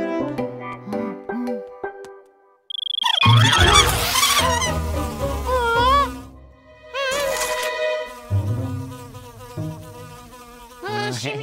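Honeybees buzz loudly and close, rising and wavering in pitch, with several overlapping drones that pause briefly and return.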